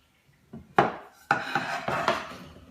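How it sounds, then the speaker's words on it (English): A 10-inch skillet handled in a kitchen gives several close metallic knocks and scrapes in quick succession, loud and separate, with no talking. "This is a 10-inch skillet."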